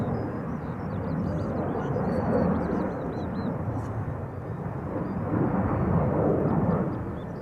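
An EasyJet Airbus A319 bound for Glasgow at Schiphol Airport, a steady broad jet roar that swells slightly and holds, heard at a distance with no talk over it.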